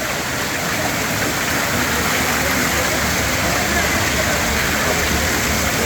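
Water gushes steadily from the 108 cow-mouth spouts at Muktinath temple in Nepal, a dense, continuous splashing rush that stays loud and close throughout.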